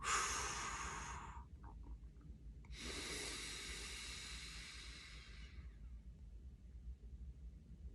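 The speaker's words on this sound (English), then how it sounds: "I'm gonna exhale really quick" A quick, forceful exhale during a guided breathing exercise, a brief breathy rush at the start, then a longer steady exhalation of about three seconds that fades out, close to the listener and with no talking.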